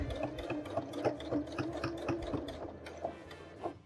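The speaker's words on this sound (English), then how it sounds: "I'm just going to go over the edge a little bit, and then we'll just use our back tacking." A sewing machine stitches over the edge of a quilted holiday mug rug and back tacks, a quiet close rapid mechanical whir of needle strokes running steadily with brief pauses and no talk.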